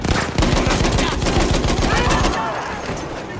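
Battlefield 1 machine gun fire: a rapid, steady stream of loud close shots in fast rhythm that breaks off after a couple of seconds, leaving a fading echoing tail.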